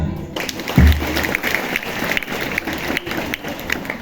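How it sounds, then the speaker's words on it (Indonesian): An audience at a police chief's youth-delinquency outreach talk claps together, a dense, steady burst of applause that rises quickly and holds for several seconds. "Tepuk tangan."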